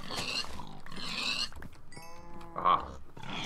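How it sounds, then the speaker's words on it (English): Pigs grunting in the Minecraft game, a series of short nasal grunts and squeals coming in bursts over a steady background, with one louder, sharper squeal near the end. "Where's all these pigs come from?"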